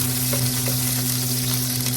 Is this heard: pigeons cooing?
no